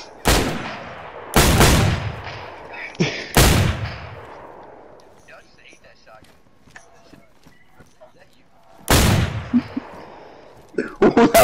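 Gunshots ring out in DayZ: three loud, sharp reports in the first few seconds, then a quieter stretch with small clicks and footsteps. Another loud shot and a few fainter cracks follow near the end, while players talk over it.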